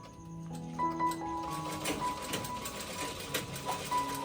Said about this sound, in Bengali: এখন কি সেলাই করছি বলো তো এই দেখো নাইটি সেলাই করছি